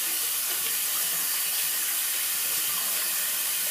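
Running water steadily rinses thick shaving cream off during a product comparison, a continuous, even hiss with no talking.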